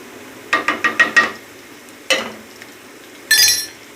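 Onions fried brown with a spoonful of crushed garlic in a pan, stirred in a quick run of five scraping, clinking strokes, then one more stroke and a brief burst of sizzle near the end.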